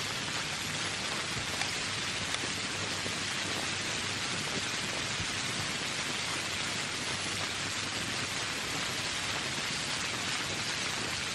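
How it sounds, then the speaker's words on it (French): Steady rain falls without pause, an even, continuous hiss of drops with no voices over it. "Il pleut!"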